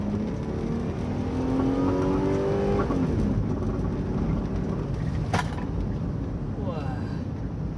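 A Kia Carnival GS minivan accelerates hard after a transmission kickdown into a lower gear, its engine revving loudly and steadily up through the run. The sound is close and continuous, with rising harmonic tones from the engine.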